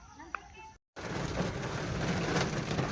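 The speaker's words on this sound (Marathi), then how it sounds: "अकुलगावमध्ये पावसाला सुरुवात झालेली आहे. आणि पावसाचा जोर हा वाढायला लागलेला आहे." Rain in the village of Akulgaon over red-earth ground with trees: a short quieter stretch, a brief break, then a dense, loud, steady downpour roar close by.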